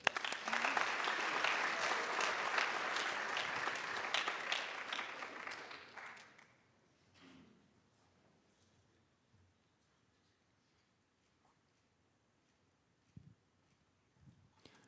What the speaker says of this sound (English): I think our coaching staff needs a round of applause.